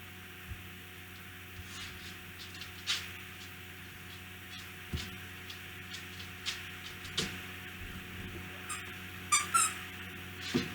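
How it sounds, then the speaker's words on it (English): A dog squeaks a squeaky toy indoors, giving a series of short, irregular squeaks and clicks spread across the clip at moderate distance, with a quiet hum beneath and no talk. "did you find a squeaky toy?"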